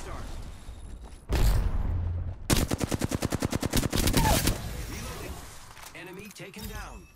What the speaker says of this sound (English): Shooting. Contact. I'm spotted, taking fire.